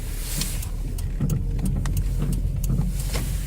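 Inside or beside a Chevrolet Optra, a low rumble with repeated short creaks and knocks from a faulty suspension spring as it moves, irregular clunks over steady road noise.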